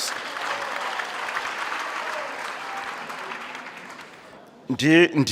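A large graduation crowd at Walter Sisulu University gives the Butterworth choir a long, steady round of applause, dense clapping that fades slightly before a voice begins speaking near the end.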